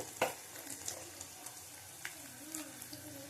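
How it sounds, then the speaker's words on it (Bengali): Small green chilies fry in a pan, giving a soft, quiet sizzle with scattered pops and a few stirring taps. "মোট চারটে লঙ্কা দিলাম ছোট ছোট লঙ্কা তো চারটে দিলাম আবার ভালো করে ভেজে নেব"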